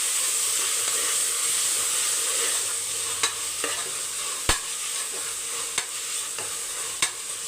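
Ginger garlic paste and tomatoes fry in a pan with a steady, close sizzling hiss, broken by a few sharp utensil taps as the mixture is stirred, with no talking.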